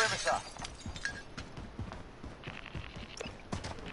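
Glass shattering in a video game, a bright crash at the start followed by scattered clinking debris and light scuffing steps, moderately close with no talk.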